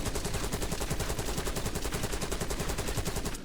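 Sustained rapid automatic fire from a Krig C assault rifle in a Call of Duty–style shooter, a loud, steady stream of evenly spaced shots with no pause until it cuts off at the very end.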